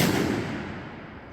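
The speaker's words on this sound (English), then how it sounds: "So this is a 1914 Hotchkiss machine gun, fully papered." A 1914 Hotchkiss machine gun fires a single round into a forest berm, a loud close blast at the start that decays into a fading outdoor rumble.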